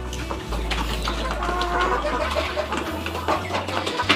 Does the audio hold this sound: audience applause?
no